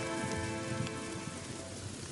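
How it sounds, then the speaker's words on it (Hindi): Cartoon rain falls steadily, a dense, even hiss of drops spattering on surfaces that lasts the whole stretch with no voices. "हमें तो लगा था चिंटू का घर सबसे मजबूत है, पर इस बारिश ने तो उसे भी कमजोर कर दिया"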